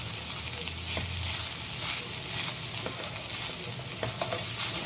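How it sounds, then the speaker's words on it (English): A dish fries uncovered in a pan with a steady loud sizzle, while a spoon stirs and scrapes against the pan at irregular intervals, heard up close. "Just keep stirring. It's like a stir fry."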